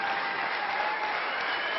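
A German snooker crowd in Fürth, northern Bavaria, applauds steadily and evenly, a dense, continuous wash of clapping with no individual voices.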